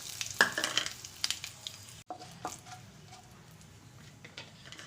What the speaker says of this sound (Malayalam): ഇനി നമുക്ക് ഒരു വറ്റൽമുളക് മുറിച്ചത് ഇട്ട് കൊടുക്കാം. പിന്നെ കറിവേപ്പില ഇട്ട് കൊടുക്കാം.